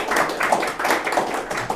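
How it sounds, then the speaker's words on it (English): Audience applause at a Flutter developer meetup in Tallinn, a steady patter of many hands clapping throughout, moderately loud and close, with no voices heard. "So, round of applause."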